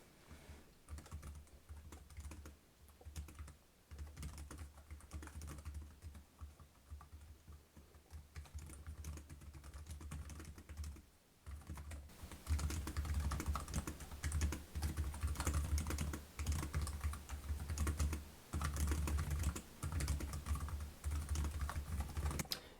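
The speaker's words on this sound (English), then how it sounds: "Bring this down here and do a little typing test." Steady typing on the compact keyboard of a Chuwi MiniBook X laptop, with close, continuous key clicks that grow denser and louder in the second half, and no talking.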